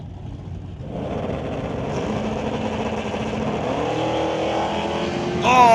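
Drag race cars, a Rad Torch Systems S10 against a Stone Cold Racing Dodge Dart, roar steadily with rising engine noise at a West Coast Outlaw Shootout strip, building to a louder burst at the end.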